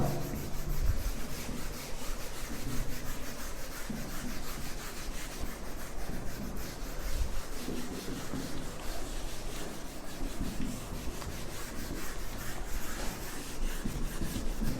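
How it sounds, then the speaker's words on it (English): A board being rubbed down to erase it, a continuous rough scrubbing swish that goes on steadily for the whole stretch, close and even in loudness, with no voices. "So I need to rub it down first."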